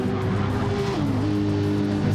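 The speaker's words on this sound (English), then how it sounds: "hard on the brakes as he comes through the chute" A race car in Gran Turismo 7 brakes hard at Watkins Glen, its tires squealing loudly and steadily over the continuous engine roar, with the pitch dropping partway through.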